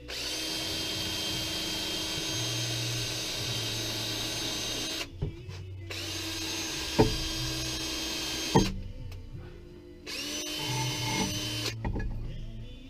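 A polishing wheel buffer run in reverse while polishing rocker boxes, giving a steady loud motor whine with bursts of rattling grind, broken by brief pauses and sharp knocks as it spins down and restarts.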